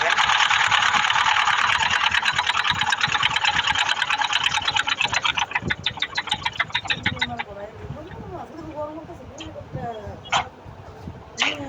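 A sewing machine stitches a fatua, its rapid needle chatter loud and close at first, then slowing into separate clicks and trailing off, with a voice speaking over the later part.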